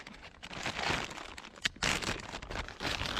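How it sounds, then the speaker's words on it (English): A plastic bag crinkles and rustles close by, pulled from a flintlock hunter's field pack, with irregular crackling bursts and brief louder crunches over a few seconds. "Another plastic bag."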